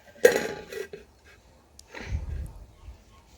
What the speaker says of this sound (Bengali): এখন একটা ছোট্ট বাটি দেখুন আমি এখানে ঢাকা দিয়ে দিচ্ছি